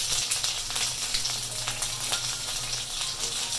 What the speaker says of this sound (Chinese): 簡簡單單煎個雞翼咪幾好